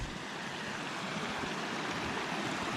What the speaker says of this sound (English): Oh, nice little creek. I'm assuming it's Trapper Creek. Goes right down into the lake.